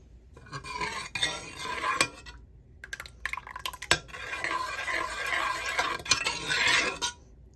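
A utensil stirs and scrapes black rice porridge sweetened with palm jaggery in a pot, giving repeated close scraping strokes with soft liquid sounds and brief pauses, no voices.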